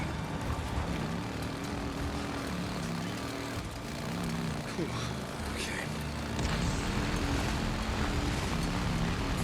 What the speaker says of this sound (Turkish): Şu helikopterle aramdaki mesafeyi kapatacağım.